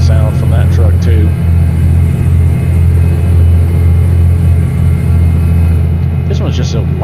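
A loud truck engine rumbles in the Euro Truck Simulator 2 driving game. The heavy, constant low drone runs the whole time, with brief bits of voice near the start and end.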